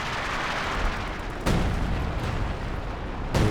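Zeroing artillery barrage in Company of Heroes 2, heard as sharp distant booms: one strong blast in the middle and another near the end, over a steady rumbling battlefield din.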